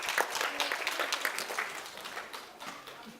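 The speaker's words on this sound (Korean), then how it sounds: "큰 박수로 맞이해 주세요" An audience of parents and elementary schoolchildren at a science lecture in Daejeon claps to welcome a mechanical engineering professor, a brief burst of close, crisp applause that tapers off within a few seconds.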